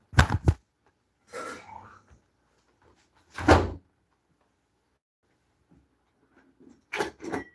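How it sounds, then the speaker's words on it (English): A door swings shut with a couple of solid close thuds, followed by shuffling and softer bumps in an otherwise quiet room, then another sharp knock near the end. "let me close this door"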